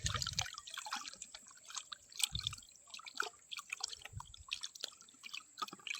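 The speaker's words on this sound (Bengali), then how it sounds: "তো চিকেন পকোড়া বানানোর জন্য মাংসটাকে ভালোভাবে ধুয়ে নিতে হবে।" Raw chicken pieces for pakoras are rinsed in a bowl of water in a home kitchen, giving faint, scattered splashes and drips close by with no talking.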